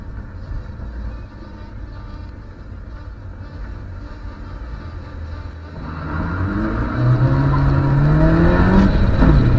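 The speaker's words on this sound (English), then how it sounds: "I get a lot of wheel spin off the line." Race car engine revving hard at a race start as the driver gets heavy wheel spin off the line, the rising engine note swelling loud over steady track and car noise.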